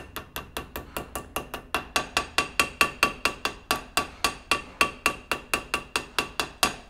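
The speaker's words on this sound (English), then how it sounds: "slowly but surely tap it in" A hammer taps a go-kart wheel bearing into place with about thirty sharp metallic ringing strikes in a steady quick rhythm, close and clear with no talk.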